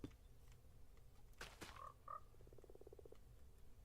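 Video game frogs croak in a faint scene, a rapid pulsing croak run following a couple of short tonal calls and brief clicks over quiet background hiss.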